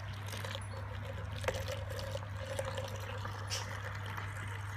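Cold water flows out of a Grainfather counterflow chiller on a home brewing day, a steady close pour with a soft trickling texture over a constant low hum, continuing unbroken with no talk.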